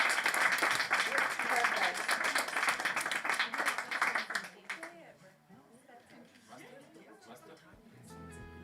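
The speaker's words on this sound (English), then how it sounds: "So give yourselves a round of applause to start it off." A crowd claps loudly for several seconds, then the applause trails off into quiet murmuring and scattered room noise.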